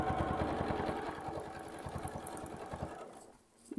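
A sewing machine stitches curved seams on a quilt, running in a fast, steady chatter for about three seconds before stopping, close and alone with no talk.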